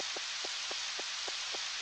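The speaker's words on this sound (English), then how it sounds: "The rain here is very different from in my hometown. There it sounded like music, but here it sounds lonely." Steady rain in the farming video game Harvest Moon 64, a constant hiss with soft regular ticks repeating about every quarter second, playing alone with no voices.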